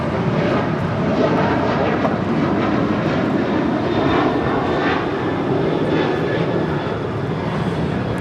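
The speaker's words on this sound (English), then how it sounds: "This is Alaska Airlines Flight 1315 departing to Portland on a 737-800." Alaska Airlines Boeing 737-800 jet taking off from Los Angeles International Airport, a broad loud continuous engine roar that holds steady throughout, with no voices.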